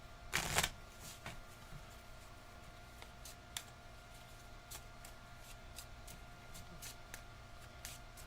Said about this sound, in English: Shuffle my discard into my deck.